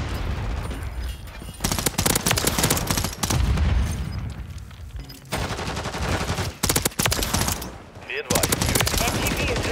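Loud machine gun fire in Modern Warfare 3 rattles in long dense bursts broken by short pauses, with booms mixed in and voices talking under the shooting.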